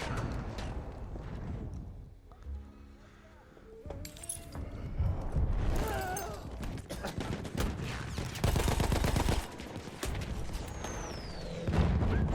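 Battlefield 1 gunfire in a 1918 setting with a tank nearby: bursts and single shots crackle in clusters, booming louder toward the end, mixed with game clatter and a voice talking over the action.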